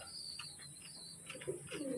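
Domestic pigeons coo softly in a loft, with a few faint chirps over a quiet background hum.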